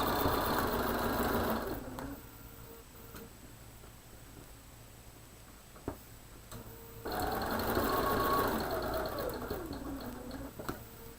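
A sewing machine stitching quilting fabric for a pin cushion, running in two steady whirring bursts with a quiet pause between for a small backstitch and pivot, close and alone.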